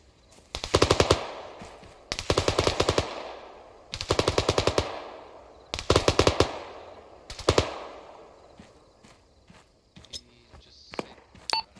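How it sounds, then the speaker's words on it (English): Bursts of heavy machine gun fire in the military video game Arma 3, five long loud strafes a couple of seconds apart, then scattered single shots and small clicks and beeps. "Heavy machine gun fire west."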